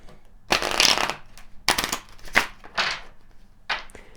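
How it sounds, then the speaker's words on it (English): Tarot and Kipper cards are shuffled up close in several quick riffling bursts, each a crisp flurry of card snaps separated by short pauses. "Let's get some additional cards, Kipper cards here to clarify."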